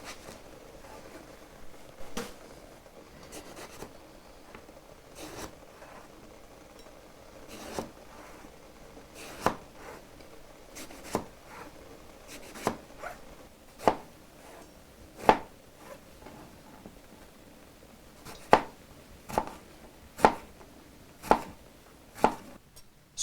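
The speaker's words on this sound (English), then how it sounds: "I like to cut the eggplant into 1/4 inch pieces" A kitchen knife cuts an eggplant into quarter-inch pieces on a board. The crisp, close chops start soft and sparse, then grow louder and more regular, with no talking.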